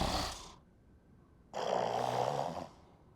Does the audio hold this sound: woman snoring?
yes